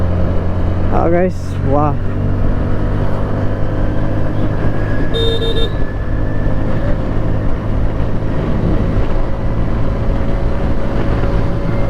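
Hero Xoom 125 scooter accelerating on the road: a steady, loud engine drone rising under the rider's voice, with wind rumble, a brief horn toot and other traffic nearby.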